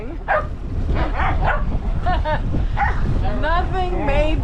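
A dog barks and yips in a quick series of short, pitched calls, fairly close, with a voice mixed in underneath.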